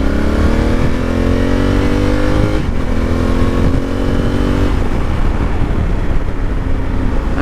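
A 2020 Honda Africa Twin motorcycle engine revs hard and continuously up close, its pitch climbing and dropping as it accelerates through the gears, with no talking.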